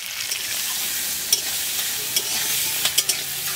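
River crabs from the Sundarbans fry in a pan with salt and turmeric, giving a loud, steady, close sizzle with a few sharp pops and spatters and no voices over it.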